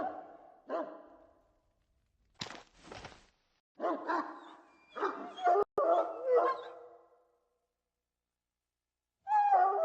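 A dog in Dragon Age: Origins gives short, separate whimpers and low barks in bursts with pauses between them, close and clear, with no talking.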